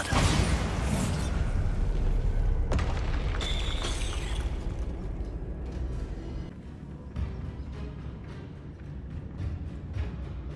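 A Bombarda spell explosion in Hogwarts Legacy opens with a loud, rumbling blast that fades into a long, noisy rumble with scattered crackles, and no talking.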